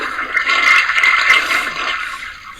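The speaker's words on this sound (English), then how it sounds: "And I'm going to flush this toilet." A toilet flush from a learning program, a loud rushing, hissing burst of water that carries steadily through the short clip and tapers slightly at the end, with no voices.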